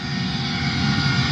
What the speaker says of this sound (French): Avion a décollé.